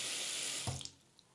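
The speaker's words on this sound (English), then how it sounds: "Like this faucet, for example, I hear it's a little bit leaky when you turn it on and off." A leaky kitchen faucet runs with a steady broadband hiss of water for about half a second longer, then a brief splash and drip as it is turned off, leaving quiet.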